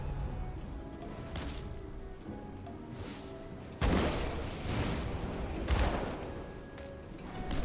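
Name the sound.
weapon shooting sound, Demon Hunter in Grim Dawn video game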